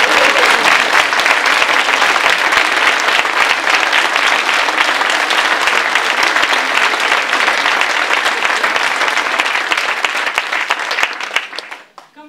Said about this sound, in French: Ils méritent nos applaudissements.